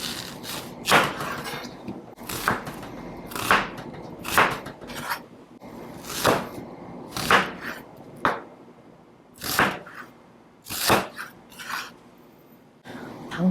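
Knife cutting onion, carrot and paprika on a board for homemade beef curry: a dozen or so separate close chops and thuds at an uneven, unhurried pace, each a sharp crisp hit, with no talking.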